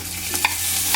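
Leeks sizzle in a pot for seafood chowder, a loud, close, steady frying hiss with a couple of brief stirring scrapes.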